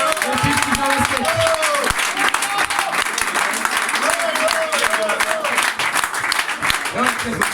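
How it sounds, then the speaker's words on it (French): Basketball arena crowd applauds after a win, dense sustained clapping with an announcer's voice talking loudly over it. "Mesdames et messieurs, applaudissements pour Yoann Duvol, le festival basket."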